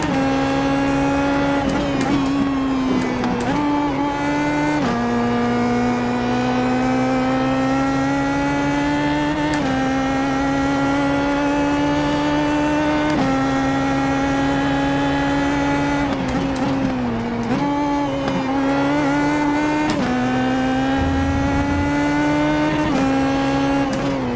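A Pro Mazda PM18 race car engine in the iRacing simulator, lapping Watkins Glen, holds a loud, continuous buzzing drone whose pitch climbs and drops with gear changes and corners throughout, with no talk over it.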